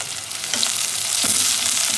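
Chopped onion frying with cumin seeds, cloves and a bay leaf sizzles in a steady, even crackle close to the pan, with no voices over it.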